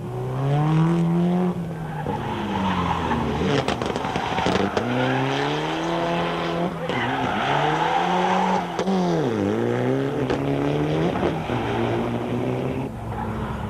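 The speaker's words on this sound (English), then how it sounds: "With tortured tyres screaming in protest at the abuse meted out of them" Rally cars at Longmoor race through a stage with tyres squealing hard, long rising and falling shrieks over loud revving engines, continuous and close for the whole stretch.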